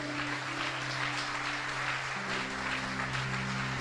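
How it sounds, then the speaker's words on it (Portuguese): A church congregation at a Sunday service applauds in a steady, even patter of clapping. It is heard at a moderate distance over a sustained organ or keyboard drone, and no speech rises above it. "Mas é para aplaudir mesmo."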